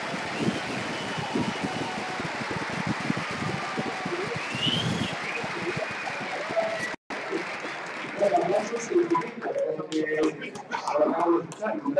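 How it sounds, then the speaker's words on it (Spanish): Crowd applause at a combat robot tournament, a broad, continuous wash of clapping mixed with room noise. A brief dropout occurs midway, then louder voices talk over the thinning clapping. "Aplausos ahora."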